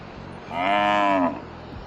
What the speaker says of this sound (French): il y a une vache